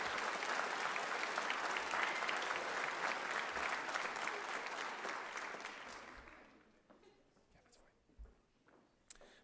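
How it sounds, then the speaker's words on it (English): Audience applause fills a school senior honors night, a dense sustained clapping that holds steady for several seconds before fading out, leaving a few scattered claps and quiet room noise. "Again, one more round of applause."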